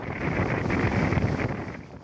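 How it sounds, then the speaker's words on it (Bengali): Stormy wind during heavy rain in coastal Bangladesh, a brief spell of loud, rumbling gusts buffeting the microphone, rising and falling over two seconds. "দেশের বিভিন্ন স্থানে নেমেছে প্রবল বেগে বৃষ্টি, বইছে ঝড়ো হাওয়া।"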